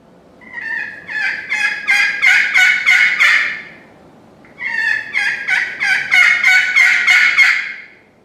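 A turkey friction call worked with a carbon-tipped striker gives two loud, close runs of raspy, rhythmic yelps, each lasting about three seconds, with a short pause between them.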